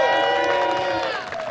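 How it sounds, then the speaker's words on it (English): Crowd at a disc golf championship in Texas applauds and cheers for a top player stepping onto the tee, a steady wash of clapping and voices held at full level, easing slightly near the end with tonal ringing mixed in. "let's get a big round of applause going for Paul McBeth"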